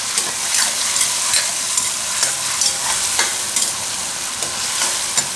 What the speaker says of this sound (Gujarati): તો ટમેટાને થોડીક વાર આમાં પકાવી હું